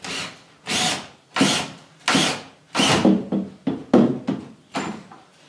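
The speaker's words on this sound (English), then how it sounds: "I'm going to hold the front and sink these screws in." A power drill drives screws through a board into wall studs during homestead cabinet and hearth building, with about eight short whirring bursts in an uneven rhythm, close and fairly loud.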